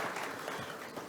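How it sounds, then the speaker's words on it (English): Audience applause at the close of a talk in an academic session, a steady dense wash of clapping with no gaps across roughly a second. "We give one more round of applause for Libin."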